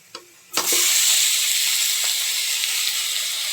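Red amaranth greens drop into a pan of lightly browned frying onions, setting off a sudden loud, steady sizzle and hiss that holds on after a brief clatter, close and continuous.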